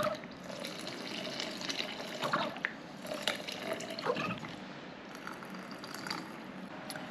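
About a litre of water poured into a piston-style mixing container, a faint, steady splashing fill with small clinks throughout.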